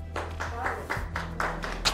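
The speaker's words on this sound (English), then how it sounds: "Oh, they got applause here, you're cooked" An audience breaks into applause, with a few scattered, fairly soft claps spread unevenly over two seconds and a low background hum.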